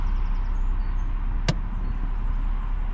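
A car handbrake is released, heard as a single short mechanical click inside the cabin over a steady low engine idle hum.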